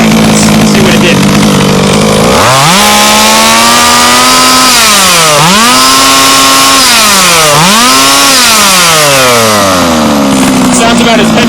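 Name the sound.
Baja engine revving after carburetor high-end mixture adjustment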